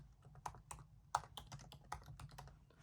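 Quiet, close typing on a computer keyboard, a quick irregular patter of soft key clicks over a low steady room hum.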